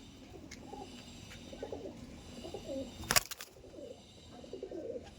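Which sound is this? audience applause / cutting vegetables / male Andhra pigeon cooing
male Andhra pigeon cooing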